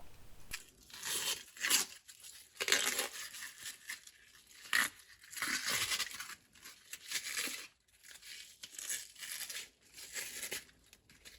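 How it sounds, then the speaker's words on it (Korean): By hand, the tough, vinyl-like outer skin is pulled off a filefish in repeated tearing, crinkling strips. The quiet, close rips come every second or two with short pauses between. "그래서 손으로 이렇게 쭉쭉 잡아당기면 돼서 좀 재미가 있습니다"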